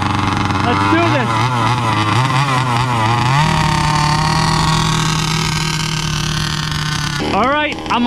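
A Rovan Q-Baja 1/5-scale gas-powered RC car fires up for its first start and idles with a loud, steady buzzing two-stroke drone, rising briefly in pitch as a throttle blip, close to the microphone.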